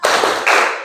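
A class of children in Indonesia claps together in a rhythmic cheer, producing two quick, loud bursts of hand claps close by.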